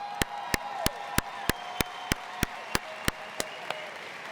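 Evenly spaced sharp claps, about three per second, from a single pair of hands rather than a crowd, at a high school graduation ceremony, over a faint steady background hum.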